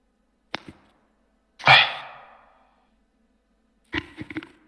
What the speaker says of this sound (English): sorry, I was sneezing.